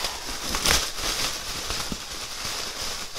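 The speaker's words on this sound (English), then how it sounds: "Sorry for the bag noise." Steady crinkling and rustling of a plastic bag being handled up close, continuous throughout with no voices.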